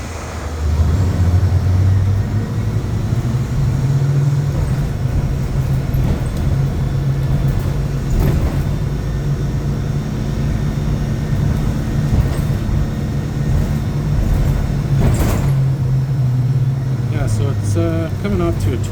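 A 2007 Nova Bus city bus on Montreal's STM route 71 drones steadily from inside, its engine hum rising and falling with gear changes, with occasional rattles and someone speaking over the ride.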